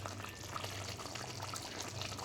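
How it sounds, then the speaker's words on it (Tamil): Half a tumbler of water pours steadily into a pot for tamarind curry, a continuous close splashing trickle with a low hum underneath. "1/2 டம்ளர் தண்ணி நான் ஊற்றிருக்கேன்."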